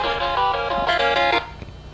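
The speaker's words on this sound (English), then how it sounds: "I'm getting a phone call." A phone ringtone for an incoming call sounds up close, a bright, steady electronic melody of repeating tones that plays for well over a second, then cuts off abruptly, leaving quiet room noise.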